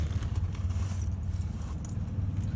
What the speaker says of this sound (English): Bear with me a minute as I find the keys wherever I put them.